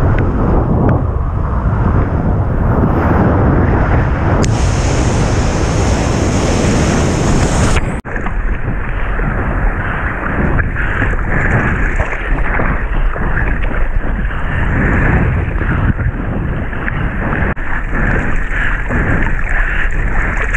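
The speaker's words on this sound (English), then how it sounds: "somewhere out there, there's a wave breaking" Small shore break waves on a beach wash in continuously, a steady roaring surf with wind buffeting the microphone, loud and close throughout.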